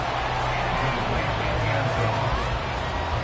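A football stadium crowd at an American football game keeps up a dense, loud, continuous roar of cheering and noise.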